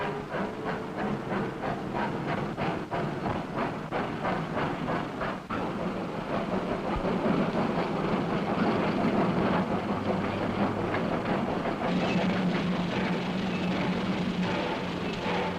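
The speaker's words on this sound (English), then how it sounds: "Journey's End is the smoke and steam and bustle of the shunting yards." Steam locomotives shunting wagons in a busy 1950s railway yard: continuous hiss of steam with rhythmic chuffing and clanking wagons, a steady low rumble throughout and a sustained whistle-like tone near the end.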